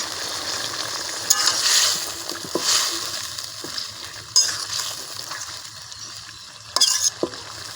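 Ivy gourd leaves and stems tossed into hot oil in a pan, sizzling and frying steadily with repeated stirring scrapes and bursts of splatter, close and fairly loud.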